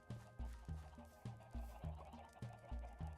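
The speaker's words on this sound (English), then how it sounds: "They really like my chickens." Blocky Minecraft chickens cluck over a game soundtrack in a hardcore survival world, their short clucks repeating in a steady, evenly spaced pattern with no talking.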